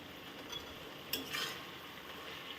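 Drumstick leaf ghonto with a little flour stirred in a pan, a faint soft scrape of the spoon against the pan over a low quiet sizzle, with one slightly louder stroke midway.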